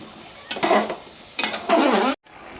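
Ginger, garlic and onion paste stirred in a cooking pan, two bursts of scraping and sizzling spoon strokes, close and fairly loud, ending abruptly.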